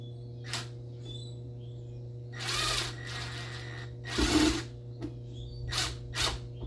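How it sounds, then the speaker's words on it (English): A power gun tightens a clamp on the cold air intake of a 2021 Chevrolet Camaro LT1, giving several short whirring bursts spaced a second or so apart over a steady low hum, close by. "So if you're going to use a gun like I did, be very careful not to over tighten it."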